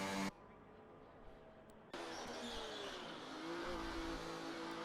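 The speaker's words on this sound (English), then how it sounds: "That Alpine has had an incredible improvement in the sound department." Alpine Formula-style race car in a racing video game, a high engine whine rising and settling as it runs, with faint tyre noise, heard fairly quietly alongside other cars.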